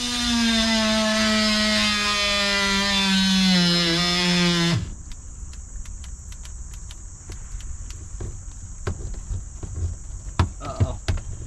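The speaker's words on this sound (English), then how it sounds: "I should get my multi-tool and cut that" Oscillating multi-tool cutting through brake parts on a 2017 Ford F350: a loud, steady high-pitched buzzing whine for about five seconds, then it cuts out, leaving quiet scattered clicks and handling noises.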